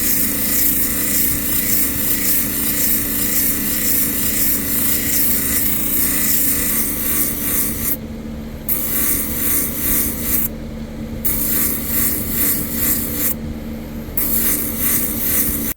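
A rock surface is worked against a 100 grit expando sanding belt, producing a steady, loud abrasive rasping that runs throughout, broken by three brief pauses near the end where the stone is lifted off the belt.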